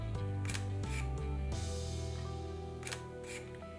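A Fuji GFX-50S medium-format camera firing its electronic first curtain shutter, several soft, crisp clicks spaced apart in a quiet room over a low steady hum.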